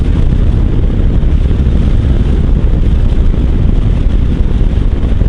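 Strong wind roars around a rider on a Royal Enfield Himalayan motorcycle, a loud, dense buffeting rush that never lets up.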